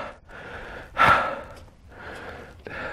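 A hiker heavily breathing after climbing Cleeve Hill on the Cotswold Way, with repeated audible inhales and exhales, one sharp gasp standing out, close to the microphone.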